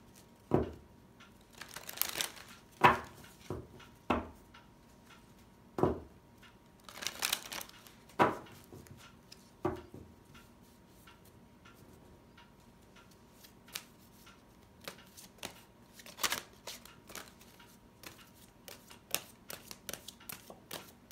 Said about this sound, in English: So I'm going to pull some oracle cards from Doreen Virtue's deck.